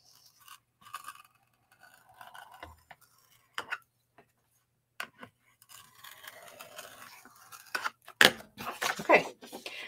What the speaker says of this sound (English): And I'm going to score my paper.